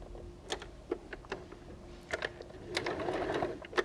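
Sewing machine stitching a fabric microwave potato bag seam in short bursts, with several sharp ticks and clacks and a brief run near the end, fairly quiet and close.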